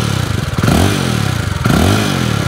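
A Jawa 350 single-cylinder motorcycle with twin exhausts and a 9:1 compression engine idles with a loud, throbbing thump, then revs up twice in quick surges, close by with no talking.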